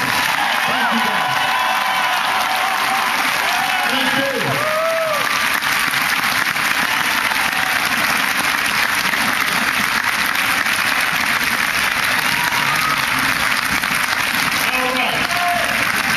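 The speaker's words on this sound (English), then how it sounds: "give a big round of applause to my organizers" A crowd at an Obama caucus campaign event gives sustained, loud applause with scattered cheers and whoops for the campaign organizers, while someone briefly speaks over the clapping.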